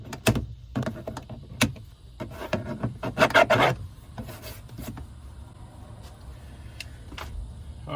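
Pocket net material on a Jeep Wrangler JK door being trimmed close, making close, irregular rasping and rubbing scrapes with short sharp bursts and a louder stretch of scraping midway.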